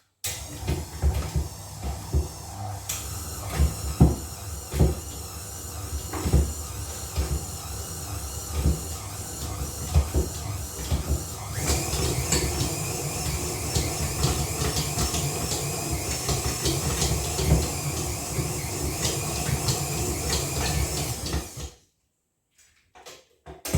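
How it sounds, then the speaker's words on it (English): A bread dough mixer kneads a ball of dough in a guest house kitchen, with a steady churning rumble and frequent knocking thumps for over twenty seconds before it cuts off abruptly into near silence. "Sometimes, like today, I like to turn the dough ball up the other way and let it mix a bit more."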